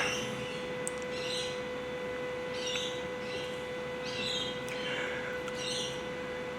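A homemade bird caller made from a Coke can gives repeated short squeaky chirps in groups, about four bursts spaced a second or so apart over a steady hum and hiss.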